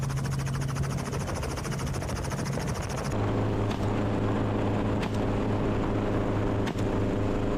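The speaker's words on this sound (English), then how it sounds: "As the helicopter descended" A helicopter's rotor chop beats rapidly over a steady engine drone, then shifts to a lower, smoother hum with occasional thumps.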